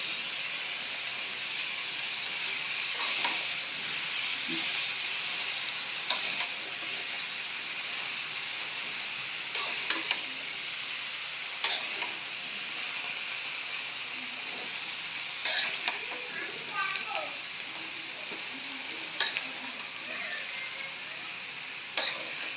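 Flat beans, eggplant and potato sautéing in a pan give a steady, close sizzle and hiss all the way through, with occasional scrapes and knocks from stirring and no talking.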